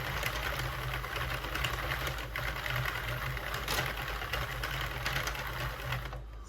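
A Sentro knitting machine works steadily through a beanie, giving a continuous close mechanical whir and rattle that holds at an even level without a break.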